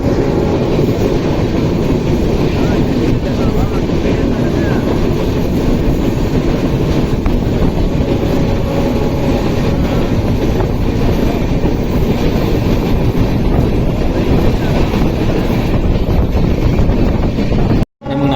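Karnataka Express passenger train number 12627 runs on rails, a loud, dense rolling roar with wind buffeting that goes on steadily throughout, as heard from inside a carriage, then cuts out abruptly at the very end.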